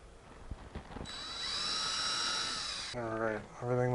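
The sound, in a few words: power drill drilling pilot holes in wood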